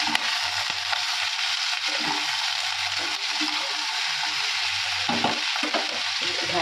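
Cauliflower frying in a pan, a steady dense sizzle throughout, close and fairly loud, with occasional stirring scrapes and a faint low hum underneath, no talk.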